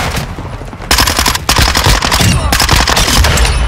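Rapid, loud machine gun fire in the Call of Duty Modern Warfare 2 game, close continuous bursts with a brief gap, rattling without pause to the end.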